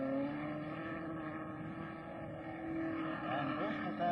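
Open-wheel racing cars at the 1963 Australian Grand Prix, including a Brabham, hold a steady engine drone with shifting tonal whines throughout, heard from a distance under a commentator's continuous talk.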